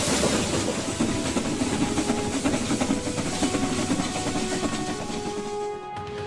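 A diesel-powered mountain railway train, formerly run on furnace oil, rumbles steadily past at close range with continuous broadband hiss and faint rhythmic clatter, loud throughout and fading slightly at the very end.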